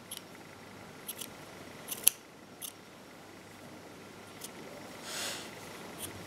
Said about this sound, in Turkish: Şöyle onları bir makas yardımıyla topluyoruz.